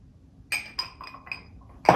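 Clear ice cubes clink into a rocks glass: a few light, bright glassy taps, then a louder, fuller clatter at the end, with no talking.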